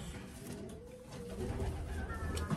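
A racing pigeon coos softly in a loft, a low throaty call repeated under steady background noise, fairly faint and not close.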